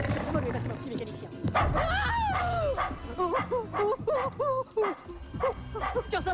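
A dog barks and whimpers in a run of short, high yelps and whines, close and fairly loud, with someone speaking French over much of it.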